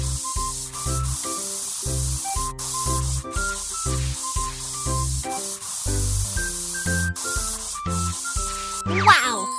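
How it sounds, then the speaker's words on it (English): Spray paint hisses steadily onto a steel plate on a car, a continuous soft spray heard under cheerful backing music throughout. "Then spray the steel plate with paint."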